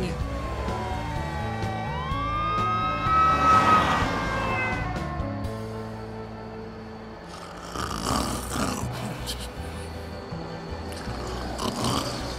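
A wailing siren rises and falls nearby, fading after a few seconds into a noisier stretch.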